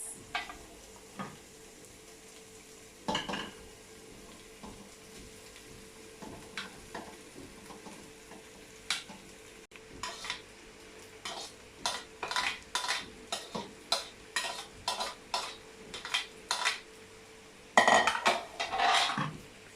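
Rice being stirred in a frying pan, with quiet sizzling under a series of sharp scrapes and clinks of a utensil against the pan, sparse at first and then quick and rhythmic toward the end.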